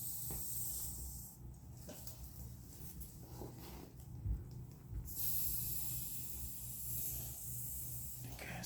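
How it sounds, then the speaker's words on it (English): Air is pumped into a hand cycle tire in repeated breathy hissing strokes, each about a second long. The hiss is faint and close, and a few soft clicks and rubs come between the strokes. "Probably let some more air into that."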